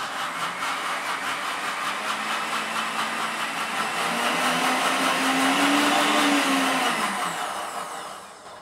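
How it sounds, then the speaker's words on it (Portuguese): A blender whirs steadily as it blends softened seeds, its motor pitch rising midway as it spins faster, then winding down at the end. "vai colocar dentro de um copo de liquidificador"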